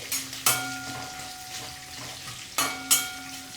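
Four dried Byadgi chilies go into a hot pan of oil for fenugreek-leaf chutney, hitting with two sharp bursts of crackling sizzle that settle into a soft, steady frying hiss, with no talking.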